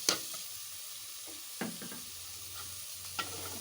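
Hidol, a fermented fish, fries in hot oil while a spoon stirs it, giving a soft steady sizzle broken by a few scraping clinks of the utensil against the pan.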